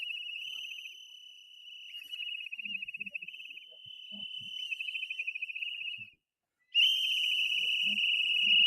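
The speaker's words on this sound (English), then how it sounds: "it's the whistles that are loud" Loud, sustained shrill whistles blowing in long steady blasts with brief pauses, a short silence, then the whistling resumes even louder, faint voices beneath.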